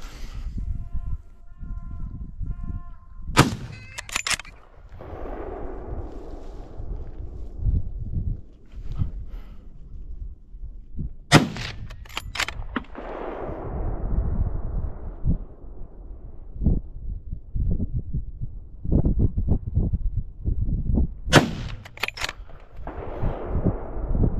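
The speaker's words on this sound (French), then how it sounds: "Ça tire à gauche, à droite." Gunshots ring out during a driven wild boar hunt, several sharp loud reports spread irregularly across the stretch, some close and some more distant, with rustling and movement between them and faint calls of animals early on.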